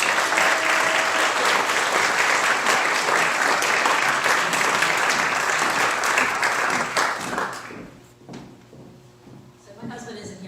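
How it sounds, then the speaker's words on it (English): Broad, dense applause from banquet guests at an annual membership banquet fills the room for about eight seconds and then thins out into a few scattered claps and faint room noise. "So if we can just give them a round of applause."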